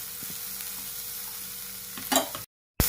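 Crushed ginger, garlic and curry leaves frying in hot oil for a spicy jackfruit seed fry give off a steady soft sizzle, then a brief louder stir and a sudden cut to silence before the sizzle returns.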